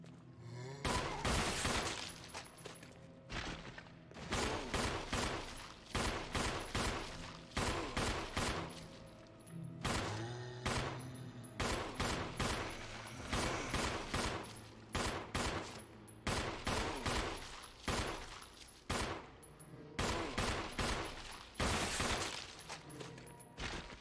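Rapid, sharp handgun shots from the Samurai Edge pistol in Resident Evil HD Remastered ring out in dense, repeated volleys with brief pauses between bursts, loud and close throughout.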